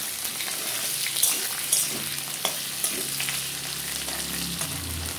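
Boiled potatoes fry in hot oil in a pan for a pea lentil fritter curry, a steady close sizzle with crackling pops and a few stirring clinks throughout.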